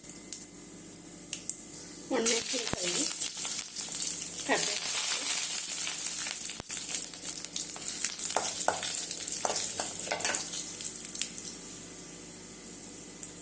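Mustard seeds, chana dal and urad dal frying in hot oil in a kadai: a quiet start, then a burst of crackling, popping sizzle with bursts of spattering and stirring that carries on loudly.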